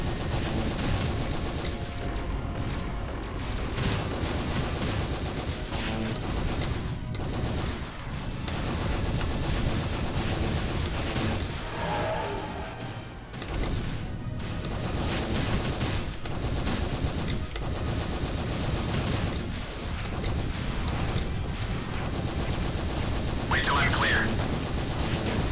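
Rapid gunfire from the Stormfire cannon on a space fighter in the game Wing Commander Prophecy, a dense, continuous barrage of shots with booming impacts, mixed under steady game sound and people talking.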